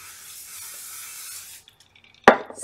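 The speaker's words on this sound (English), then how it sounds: "spray my ponytail" A steady hairspray aerosol hiss sprays onto a ponytail for about a second and a half, then stops, followed by a short sharp clatter.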